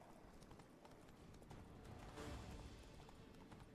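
Horse hooves in The Witcher 3: a steady, fast clip-clop of a horse moving over the ground, continuous and fairly close, with faint game ambience beneath and no talk.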